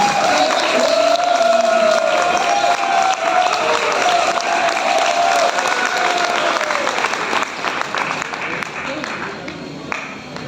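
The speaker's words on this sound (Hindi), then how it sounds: "मैं चाहता हूं एक बार करमवीर जी के लिए जोरदार तालियां" A large audience claps loudly and steadily at a company leader's tour event in Goa. Dense applause lasts the whole stretch, with faint cheering and a voice over it, and eases slightly toward the end.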